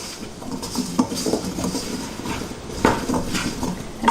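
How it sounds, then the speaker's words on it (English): Potatoes and onions with table salt get stirred in a pot for sweet potato and black bean chili, with close metallic scrapes and clinks of a utensil against the pot, in irregular knocks over a low background, no talk. "So we're gonna give that a little stir, get all those potatoes and onions coated."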